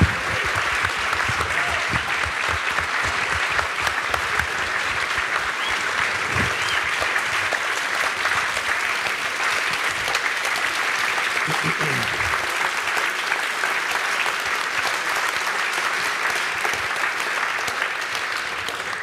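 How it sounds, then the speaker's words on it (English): Sustained audience applause at a film screening Q&A welcoming the documentary's subject, a dense, steady wash of many hands clapping throughout with no pause, a few low thumps underneath. "Let's have a round of applause for Joe Brondo, everyone, please."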